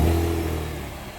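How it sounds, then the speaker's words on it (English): A 2020 Chevrolet Camaro 1LT RedLine Edition V6 fires up with a loud, close engine roar that swells at the start and then settles into a steady, slightly fading idle. "A V6 roars to life,"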